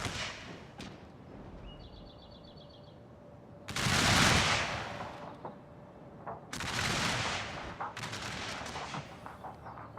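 Musket volleys in a Shogun 2 video game battle crack out as two long, loud rolling bursts of massed gunfire, with scattered shots between and a faint bird call early on.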